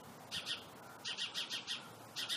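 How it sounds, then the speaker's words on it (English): A small bird perched in a tree just above its nest chirps loudly and close by, giving quick bursts of high, bright tweets in an uneven run with no voices over it. "right above it in the tree is the little bird, and I don't know that he really likes that I'm sitting here, so he's being kind of loud"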